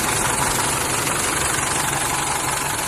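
A 2005 Isuzu D-Max SX pickup with a 2.5-litre common-rail diesel and manual gearbox idles steadily, a close, continuous clattering drone with a low rumble and no voices.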